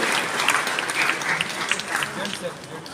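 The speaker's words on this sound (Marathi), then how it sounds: "टाळ्यांचा गजर आपण करूया" A crowd claps steadily in sustained applause at a welcome and felicitation event for a member of parliament in Sangamner, Maharashtra, with a voice talking over it.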